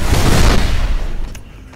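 Gunshots in a Destiny Crucible PvP match, a loud burst of booming blasts that decays into a fading rumble, with a faint click near the end.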